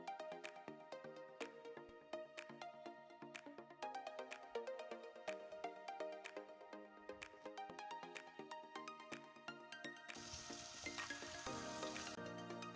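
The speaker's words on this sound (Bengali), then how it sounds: "এখন দিয়ে দিচ্ছি পেঁয়াজ কুচি" Chopped onions sizzle in oil for hilsa fish bhuna, a dense crackling fry with scattered pops and spatters close by that swells into louder hissing toward the end.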